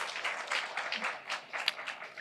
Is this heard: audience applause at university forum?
yes